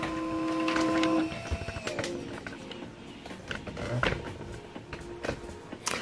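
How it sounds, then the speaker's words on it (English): An HP LaserJet printer whirs and clicks as it restarts, with motor tones and mechanical clunks near and loud at first, then scattered clicks and rattles. "So you cancel and turn this printer off and on."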